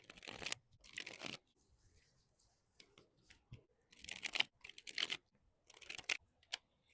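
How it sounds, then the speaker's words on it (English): Tarot deck shuffled by hand, quiet, close papery riffles and slides in short bursts with pauses between, no talk. "Let's shuffle your deck"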